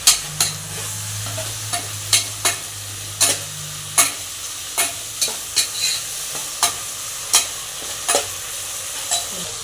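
Mushroom biryani masala fries and sizzles in a pan as a spatula stirs and scrapes it in regular sharp strokes, about a dozen close, crisp scrapes over a constant sizzle, with a low hum during the first few seconds.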